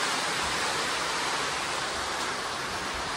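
Steady heavy rain pours down in a village, a dense, even hiss that holds unbroken and close throughout with no voices.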